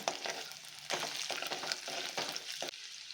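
A large head's worth of chopped garlic sizzles quietly in a pan for a restaurant-style gobi and palak paneer paratha, with faint frying hiss and several light scraping stirs at close range.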